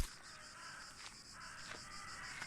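Crickets chirp steadily in a quiet night ambience from the adventure game The Last Door, a soft continuous insect trill with faint brief clicks, no talking.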